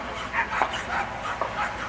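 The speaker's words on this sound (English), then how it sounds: "the little dog walking up along the ring there now" A working dog at a dog racing event gives several short yips and barks in an irregular series. The barks are moderately near, with crowd and ambient noise behind them.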